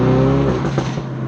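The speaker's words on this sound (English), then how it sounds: "But you can already hear the exhaust, like the low tones coming through the window." A Ford Focus RS exhaust revs loudly and close, a deep, raspy engine roar holding strong through a short burst with no talking.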